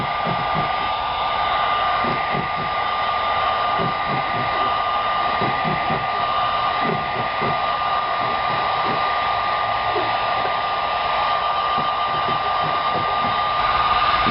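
A heat gun blows steadily and close up while warming vinyl tint film on a 2014-2015 Camaro tail light lens, a constant airy whoosh with a thin high whine and faint handling taps underneath, no talk.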